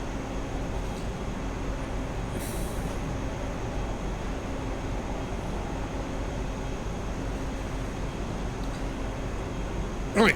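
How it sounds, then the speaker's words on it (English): An express passenger train in Train Sim Classic races along the Edinburgh Waverley to London Kings Cross line in a 125 mph zone, giving a steady, loud, continuous rumble and roar with no break. "I suppose when you hear this train coming at this sort of speed,"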